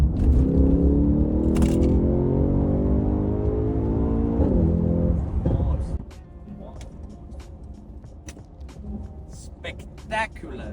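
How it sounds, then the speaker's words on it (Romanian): A Mercedes-AMG 63 with its 4-litre, 615 hp engine revs loudly, the pitch rising and falling through several climbs for about six seconds before dropping to a lower idle rumble with clicks and a voice nearby. "vorbim despre motorizarea 63 AMG, motorul de 4 litri de la Mercedes cu 615 cai putere"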